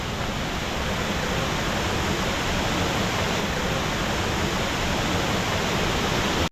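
A waterfall in Wales roars as a steady, dense wash of falling water, loud and unbroken throughout with no voices, cutting off abruptly at the very end.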